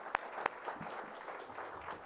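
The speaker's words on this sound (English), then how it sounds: "Applause for Mr. Soderstrom." Soft applause for Mr. Soderstrom, Executive Director of Kiwanis International, at a technical session on salt and iodine, opening with two crisp nearby claps before a faint, distant patter of hands continues.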